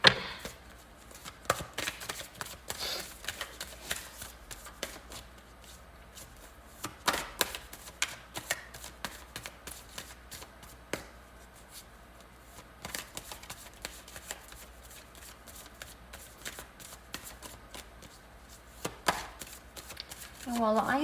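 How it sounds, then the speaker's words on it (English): Tarot cards shuffled by hand in a steady run of crisp riffling and tapping bursts that repeat across the whole stretch at close range, with no talking. "I will go ahead and shuffle live"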